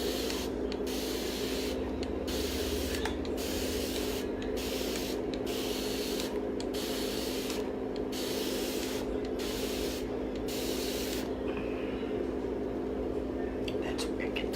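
Spray paint hisses onto a canvas in a run of short bursts about a second apart, close and loud. The bursts stop near the end, leaving only a quieter hiss.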